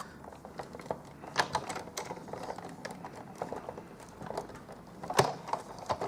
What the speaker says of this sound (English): I'm just going to crank that through the Big Shot